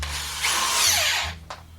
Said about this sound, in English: my trusty drill.